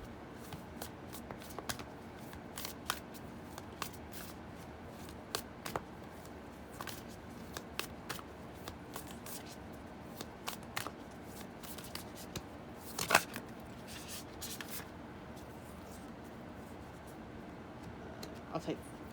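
A Moonology oracle card deck is shuffled by hand in quiet, close riffles and taps, with soft crisp card snaps scattered throughout.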